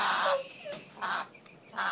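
An African grey parrot lets out harsh, raspy squawks in three or four separate bursts, close and loud, with short pauses between and no talking.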